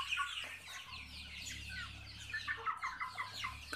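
Several chickens cluck and chatter close by in soft, overlapping bursts, with a low steady hum underneath.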